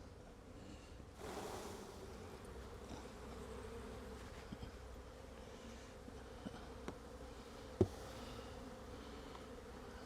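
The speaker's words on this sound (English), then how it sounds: "You can see those bees starting to rob there, so I need to go fairly quickly." Honey bees buzzing around an open hive during a varroa mite check, a continuous soft drone with a few faint clicks and one sharp tap near the end.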